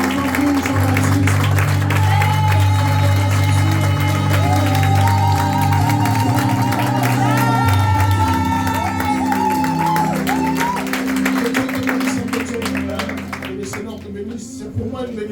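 A church congregation applauds and cheers during a prophet's Saturday service, producing a steady wash of clapping and crowd noise under sustained organ-like music that fades slightly toward the end.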